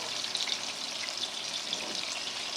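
Salisbury steak patties, three large and two medium, frying in a pan, giving a steady, dense sizzle with small crackles and pops, close and continuous with no talking.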